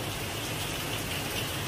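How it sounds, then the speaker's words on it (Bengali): Rain falls steadily during the Janmashtami festival, a constant hissing wash of drops with a low rumble beneath, moderately loud and unbroken, with no talk over it. "জন্মাষ্টমীর সময় বৃষ্টিও পড়ছে একদম"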